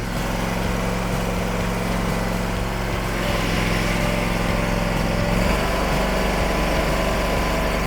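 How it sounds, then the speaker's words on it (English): An Exmark stand-up mower runs steadily after a hydro service, its engine droning loud and close with a constant broadband roar, the pitch shifting slightly about halfway through. "then we're gonna run the mower"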